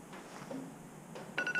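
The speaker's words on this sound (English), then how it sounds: "That's my alarm to leave." A phone alarm starts ringing near the end, a bright repeating electronic tone cutting in over quiet room hiss after a stretch of near silence.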